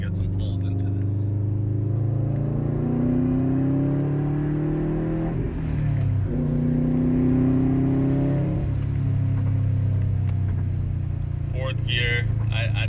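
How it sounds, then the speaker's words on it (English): A Subaru WRX STI pulls hard up to highway speed, its engine note climbing through the revs, dipping at a gear change and rising again, heard from inside the cabin with a steady drone of wind and road. "We're hopping on a highway now, so let's see if we can get some pulls into this"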